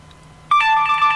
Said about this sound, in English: New text message received.